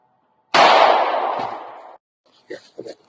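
A single loud, sharp gunshot is fired at a paper target from about 3 yards away, with a long ringing tail, then two short, faint bursts of muffled voices.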